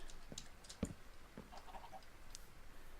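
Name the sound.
chickens clucking in a video game (Voltz)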